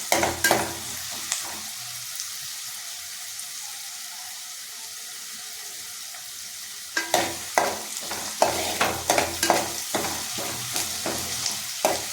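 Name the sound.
curry leaves sautéing in a pan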